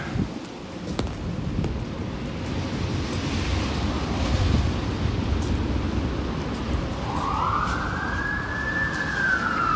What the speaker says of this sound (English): And here come the sirens.